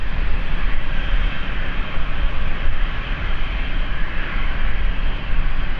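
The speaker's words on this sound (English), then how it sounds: "Dartmoor Peter says this is a NetJet to Dublin." A NetJets business jet bound for Dublin near London City Airport produces a continuous, fairly loud engine roar that stays even and steady for several seconds.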